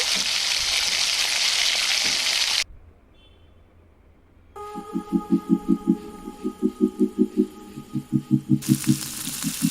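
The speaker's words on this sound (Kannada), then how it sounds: "ಮೀಡಿಯಮ್ ಫ್ಲೇಮಲ್ಲಿ ಚೆನ್ನಾಗಿ ಫ್ರೈ ಮಾಡ್ಕೊಳ್ಬೇಕು" An egg seasoned with salt and pepper fries in a pan over medium flame, giving a strong, close sizzle for a couple of seconds before it cuts off. Quiet follows, then steady pulsing tonal beats.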